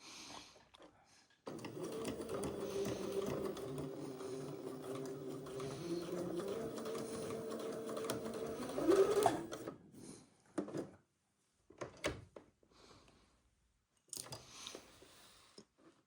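A sewing machine stitches velvet for an Eton suit in a quiet room, running in a steady whirring burst for about eight seconds, then stopping and starting in short spurts alongside faint handling noises.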